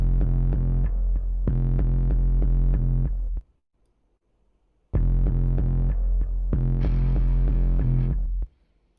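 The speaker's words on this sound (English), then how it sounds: "I then added a synth bass." An aggressive, gritty synth bass patch, Mosaic bass from Heaviosity, pulses in two loud, heavy phrases of repeated throbbing notes separated by a short silence, deep and distorted with nobody talking.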